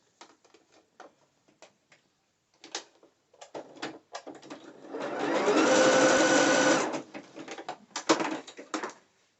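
A sewing machine stitches a zigzag along elastic on dancewear, a loud continuous whirring burst of about three seconds framed by scattered handling clicks and fabric rustles before and after.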